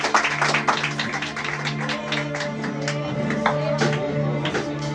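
A church congregation clapping in praise during a prayer service, dense overlapping handclaps mixed with sustained organ or keyboard tones and voices, loud and close.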